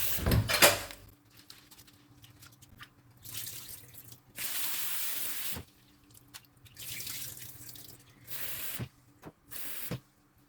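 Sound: washing glutinous rice in water

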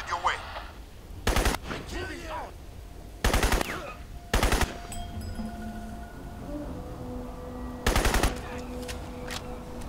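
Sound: gunfire from enemies in video game Crysis

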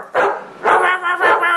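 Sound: person imitating a dog barking

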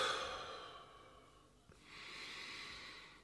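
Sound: deep breathing

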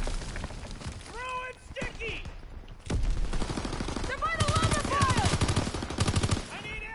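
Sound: rapid-fire gun with extended mags firing, from a video game

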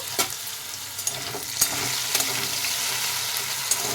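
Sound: potatoes frying in a pan

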